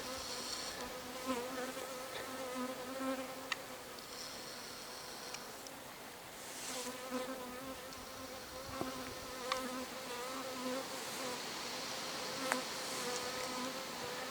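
Honeybee scouts hum steadily around a swarm trap box, a continuous close buzzing drone with rising and falling pitch as individual bees pass, plus a few faint clicks.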